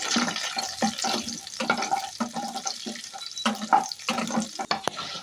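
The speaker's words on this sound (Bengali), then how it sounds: "বাদামটা এখানে ভালো করে ভেজে নিয়েছি।" Peanuts frying in hot refined oil in a wok, a steady sizzle with scattered pops and stirring clatter, close and fairly loud throughout, no talk.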